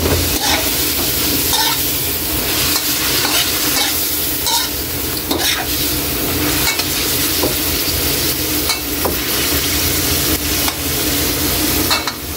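Liver frying in a pan for pancit bato, a loud steady sizzle with repeated scraping and clinking as it is stirred, close up and continuous with no talking.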